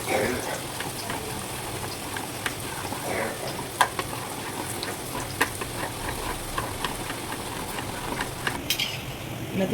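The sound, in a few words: boondi batter frying in oil through a perforated ladle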